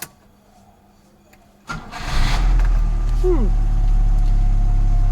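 A Peugeot 505 with a 2.0 engine and a converted double-barrel carburettor starts up: a quiet lull, then a brief crank that catches and settles into a loud, steady idle close to the mic.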